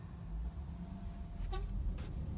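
A car horn honks on a town street in Kırşehir, Turkey, two short toots rising over steady traffic rumble, with no talking.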